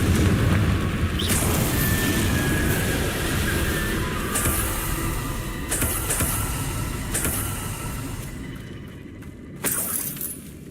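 A Confringo blasting spell explodes in the video game Hogwarts Legacy, a loud booming blast with shattering debris, followed by several further sharp impacts and crackling bursts over a rumbling background.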